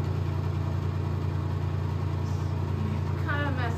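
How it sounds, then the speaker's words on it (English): An old master bathroom exhaust fan runs with a steady, close whooshing hum and a low droning tone, unchanging throughout, with a faint voice briefly near the end. "Here's the exhaust fan right there."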